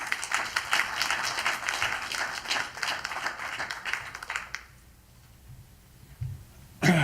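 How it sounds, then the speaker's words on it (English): Applause from an audience at a student celebration event as a foundation's executive director is introduced, a dense, steady round of clapping for several seconds that fades out, followed by a brief cough and a bump. "give him a round of applause"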